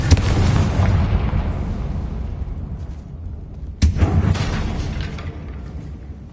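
A fire spell bursts with a heavy booming explosion in a wizarding action game, its rumbling tail decaying, then a second loud blast hits a few seconds later and fades out.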